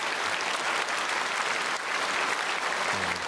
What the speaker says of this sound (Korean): 우리 크게 박수하고 축복하겠습니다